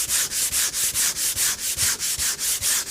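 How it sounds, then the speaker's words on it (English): A wooden box's inside faces are hand sanded with steady, evenly spaced back-and-forth strokes, about five per second, loud and close with no talk. "sanding"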